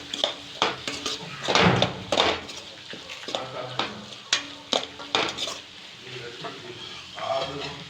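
Goat intestine gravy with masala frying in a pan is stirred repeatedly, with close scraping and clattering of the spoon against the pan over a continuous sizzle, broken by short bursts of talk.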